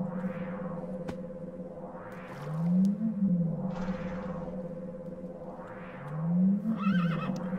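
Several synthetic-sounding Minecraft horse whinnies rise and fall in repeated waves over a steady electronic hum, with a couple of deeper snorting swells between them.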